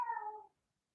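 A house cat lets out one clear, fairly close meow lasting about half a second, followed by silence.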